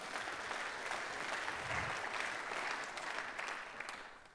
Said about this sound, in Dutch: Geef u Bastiaan een hartelijk applaus.